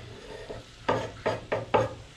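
Food frying in a pan gets stirred with four distinct scraping strokes over a steady low sizzle, close and fairly quiet, with no talking.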